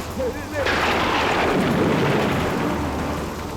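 Thunder rumbles during a heavy storm, a loud, broad crash swelling and rolling on for a few seconds over rain, preceded by a brief voice.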